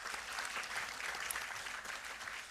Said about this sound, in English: a big round of applause as we welcome our Medical Director, Dr. Shalini Bhalla